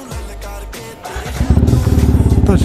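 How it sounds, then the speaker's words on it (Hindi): A motorcycle starts up, with a rough cranking phase that catches into a loud, close, steadily pulsing idle. "तो अभी निकलते हैं, स्टार्ट करते हैं बाइक को"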